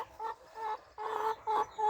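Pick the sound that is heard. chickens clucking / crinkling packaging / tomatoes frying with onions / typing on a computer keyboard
chickens clucking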